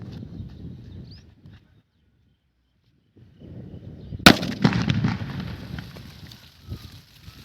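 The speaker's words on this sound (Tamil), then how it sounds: "இது வந்து பேப்பர் பாம். எப்படி வெடிக்குதுன்னு நம்ம பார்க்கலாம் வாங்க." A single sharp paper bomb firecracker bang cuts through after a quiet gap, followed by crackling and rumbling echoes, with faint background noise before.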